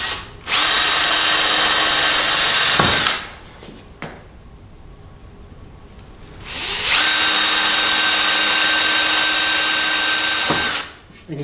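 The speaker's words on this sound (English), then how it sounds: "I'm actually going to just kind of run my screws a little bit on the exterior here" A power drill drives screws into exterior window trim in two long, loud whirring runs of about two and four seconds, separated by a quieter pause with faint handling sounds.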